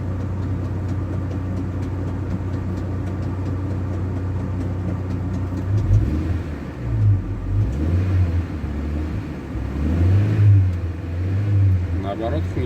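The engine of a GAZ 2790 van, fitted with a new tensioner and developing a knock and a rustling squeak, is held at about 2000 rpm, giving a steady mid-pitched rumble that swells and dips slightly, close and continuous.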